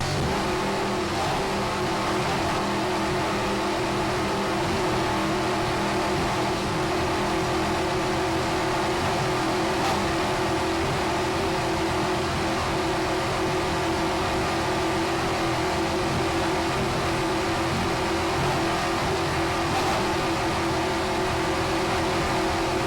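A Fountain racing powerboat's engine at full throttle near 92 mph, a loud, constant high-revving roar mixed with wind and water rush, heard up close from on board without a break.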